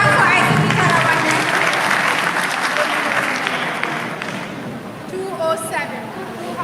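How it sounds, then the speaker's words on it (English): Audience applause at the National Spelling Bee Finals, a dense burst of clapping that starts loud and fades over several seconds, with some chatter and a voice as it dies down. "Please clap for Aisatu Tarawale."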